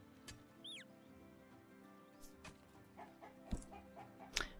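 Chickens on a small island farm in the video game Summer in Mara give faint, scattered clucks and chirps. Soft clicks and background game ambience sit between the calls, and no one speaks.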